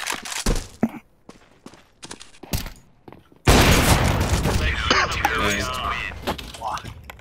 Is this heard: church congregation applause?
no